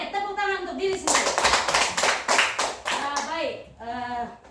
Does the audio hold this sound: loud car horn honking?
no